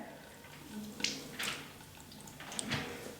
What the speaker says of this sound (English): take our cup of water and we are going to pour a little bit over our head